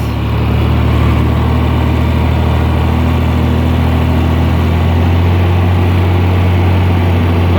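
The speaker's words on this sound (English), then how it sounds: "Push the clutch in, it idles back up." A John Deere 4010 tractor engine settles back to a steady, loud idle at close range, a deep continuous rumble with strong low harmonics holding even throughout.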